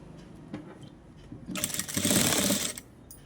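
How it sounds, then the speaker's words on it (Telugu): Sewing machine running in short bursts as it stitches fabric in a side-seam technique done without an overlock machine, rising to a steady loud whir for about a second before stopping; no voices. "ఇప్పుడు నేను ఏ రకంగా అయితే స్టిచ్చింగ్ వేస్తున్నానో క్లియర్గా చూడండి"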